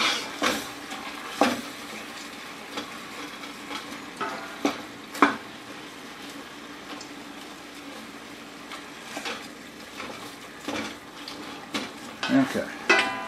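Frozen meat cooks in a pan with a soft continuous sizzle, broken by repeated stirring scrapes and utensil clinks at irregular intervals.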